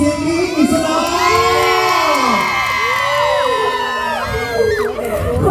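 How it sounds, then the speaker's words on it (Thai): A crowd of spectators at a temple stage show at Wat Khao Ngu in Ratchaburi cheers and whoops loudly, with children shouting among them in a continuous, excited roar. "เชียร์กันใช่ไหม"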